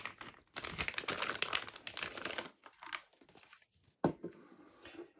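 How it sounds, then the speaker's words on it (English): The taped plastic bag around a Source Audio Atlas Compressor guitar pedal is pulled open, with close crinkling and rustling in bursts, a pause, then a sharp tear and more crackle. "Comes in a sealed bag. Or is that just taped? No, it's taped shut."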